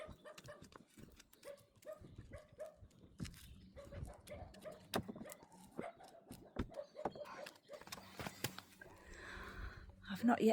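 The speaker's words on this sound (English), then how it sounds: "Now I've got to go and see what the dogs are barking at." Dogs bark sharply in short, scattered bursts, fairly close, while a person talks intermittently between and over the yaps in a quiet outdoor camping setting.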